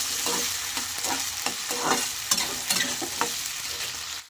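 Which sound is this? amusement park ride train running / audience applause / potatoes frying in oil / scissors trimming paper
potatoes frying in oil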